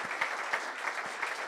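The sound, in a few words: round of applause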